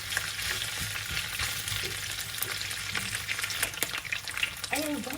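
Pork and dilis browning in a hot pan with ginger and garlic nearby, a steady close sizzle and crackle with occasional stirring scrapes and clicks running throughout.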